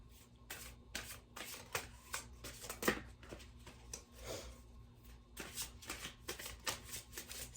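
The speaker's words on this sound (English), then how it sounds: "I'm going to be pulling a card from my Butterfly Oracle card deck for you guys" A Butterfly Oracle deck is shuffled by hand in quick repeated riffling bursts with soft card snaps, close and quiet, running without pause and without talk.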